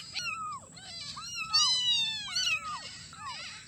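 Several young kittens mew in repeated high, plaintive cries during feeding, fairly close, over a low background murmur.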